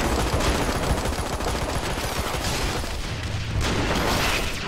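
Rapid sniper rifle fire and explosions in the video game AirMech, a dense, loud barrage of shots and booms rattling continuously with brief surges.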